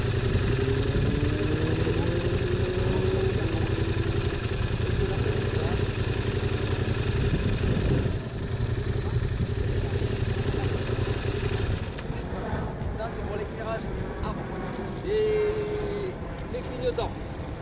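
A Yamaha MT07 motorcycle idles close by with a steady low engine rumble, while a person talks over it throughout; the engine tone shifts partway through and some clatter and handling noises join toward the end.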